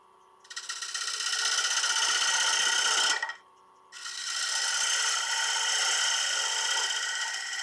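Wood lathe turning the rim of a wet wood bowl, a loud rasping cut that runs for about three seconds, stops briefly, then resumes steadily to the end.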